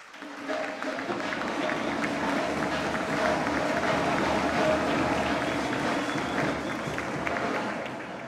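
An audience claps at a regional school oratory contest award ceremony in Chiriquí, Panama, as a medal is presented: a sustained wash of clapping that swells and holds steady for several seconds, moderately distant, with no clear talk.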